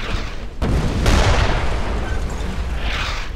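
Incoming mortar rounds burst in the World War II shooter Brothers in Arms: Hell's Highway, heavy booming impacts landing close with rumbling debris that rolls on continuously without a break.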